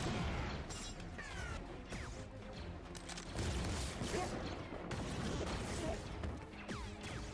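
Knee-mounted rockets fire in a Book of Boba Fett action scene, a burst of sharp whooshes, bangs and crashing impacts at moderate level, layered with clatter and mixed soundtrack noise.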